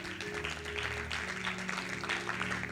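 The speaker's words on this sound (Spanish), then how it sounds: "démosles un fuerte aplauso, por favor." Applause from the audience at a talk on love, courtship and marriage, a steady soft patter of many hands that runs the whole time under faint background music or tones.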